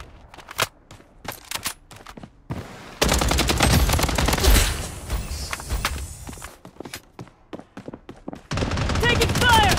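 Rapid automatic gunfire and scattered shots from a mobile shooter game, Blood Strike, with a dense burst in the middle, footstep-like clicks between volleys and game voice lines over the action.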